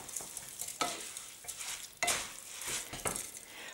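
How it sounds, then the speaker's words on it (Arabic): Homemade mhamsa pasta is stirred into meat frying in oil in a pot, with repeated scraping strokes over a soft sizzle, close up and with no talk. "توا نخلطها في وسط اللحم اللي فوحته"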